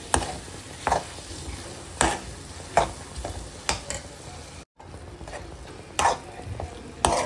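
Potato stuffing for aloo paratha stirred and fried in oil in a pan, with soft scraping strokes of the spoon recurring every second or so over a low sizzle, close and fairly quiet, with no talk.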